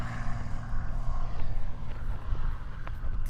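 An Extra 330SC aerobatic propeller plane drones steadily overhead at a moderate distance during a freestyle display, its engine hum holding fairly even with slight swells.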